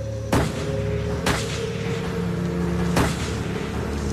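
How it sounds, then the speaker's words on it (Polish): Three distant gunshots ring out at uneven intervals during a mass shooting in Norway, each a sharp crack with a rolling echo over a steady background hum, no voices. "Odgłosy strzałów niosą się daleko."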